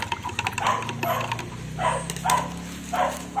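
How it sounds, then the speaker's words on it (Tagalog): A neighbor's dog barks repeatedly at a distance, several spaced single barks over a low steady hum in a home garden setting. "Ayan, tumatahol na naman ang aso."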